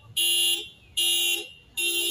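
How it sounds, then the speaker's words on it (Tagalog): An alarm goes off near a church on Holy Thursday in Dasmariñas: three loud, steady electronic tones, each held about half a second with short gaps, alone and close. "Oh, nag-alarm."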